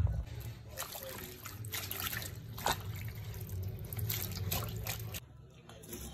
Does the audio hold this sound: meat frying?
no